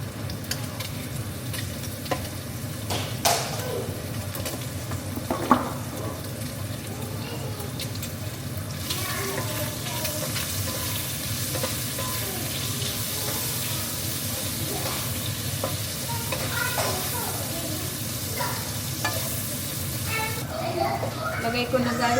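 Garlic and onion sizzle loudly in a pan where pork skin is already browning, a continuous close frying hiss with stirring and scraping, the sizzle swelling partway through.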